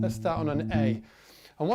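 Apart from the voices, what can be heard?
No everyday noises stand out.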